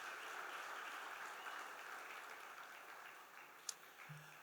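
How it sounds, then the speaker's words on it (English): Audience at a sports awards ceremony applauding an honoree, a soft distant wash of clapping that slowly fades, with a brief sharp click near the end. "give a nice round of applause once again for Lorenzo Roberts"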